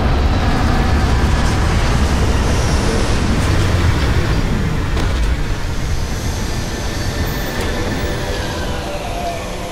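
Spaceship landing sequence in the video game Starfield: a loud, continuous roar of thrusters and mechanical rumble from the landing gear, dense and sustained and easing slightly toward the end.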